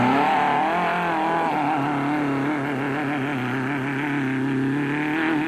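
Castrol Toyota Hilux 2.7i off-road racing truck pushing through thick sand, its engine droning loud and continuous with wavering, straining revs and no voices.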